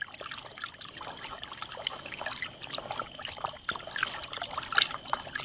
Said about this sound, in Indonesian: kita mengaduk obat ini, insektisida ini supaya larut dengan air